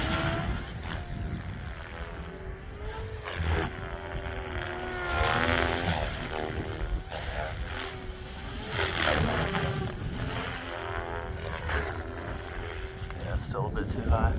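An OMPHOBBY M4 RC helicopter flying at low rotor RPM, a steady whirring drone with wavering pitch that swells and fades as it moves, continuous throughout with a person talking over it.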